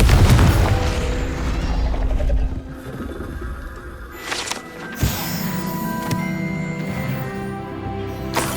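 A Confringo blasting spell goes off in Hogwarts Legacy, opening with a loud, heavy boom that rumbles for a couple of seconds, followed by a sharp crack around midway and a lingering ringing, mechanical tail.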